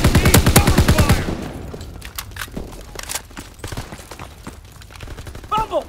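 Call of Duty WWII gunfire opens with a loud, rapid automatic burst lasting about a second. Scattered single shots, footsteps and shuffling follow at a lower level, and a brief voice-like sound comes near the end.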